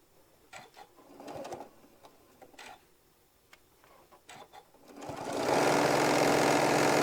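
Sewing machine stitching a quilt block seam; a few soft handling clicks and rustles come first, then the motor starts and runs loud and steady for the last two seconds.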